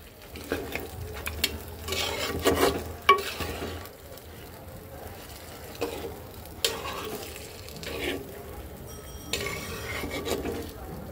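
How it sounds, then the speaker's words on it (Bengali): Country chicken meat is stirred and sautéed in a pan with cabbage, giving repeated scraping strokes of a spoon against the pan over a low sizzle, with irregular clatters and a few quiet pauses. "এখন আমি মাংসটাকেও সুন্দর করে কষাবো।"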